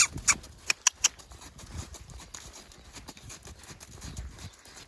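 A horse recovering from laminitis canters on the lunge line, its hoofbeats thudding in a quick, uneven rhythm with a few sharp clicks near the start, moderately close outdoors.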